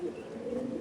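A pure Rajan-breed pigeon cooing close up, a low, steady throaty murmur running for under a second with no other sounds.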